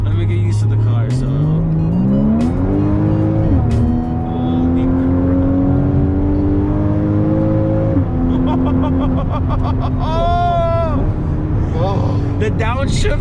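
A 2015 Porsche Cayman GTS with PDK gearbox pulls hard through rising engine revs and quick downshifts, the exhaust note climbing and dropping in steps, with a voice speaking briefly near the end.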